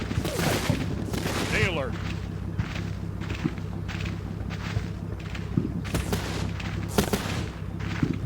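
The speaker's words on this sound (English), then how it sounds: "That's where that MG fire is coming from." Machine gun fire in the Combat Mission Fortress Italy game, coming from a hilltop church: repeated bursts and single shots at a middle distance over a steady low rumble, with a brief spoken word.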